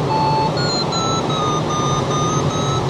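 An electronic variometer in a motorless glider flying over forest, sounding a series of steady high-pitched tones that shift slightly in pitch, continuous and fairly loud over a background hum of airflow, with no talking.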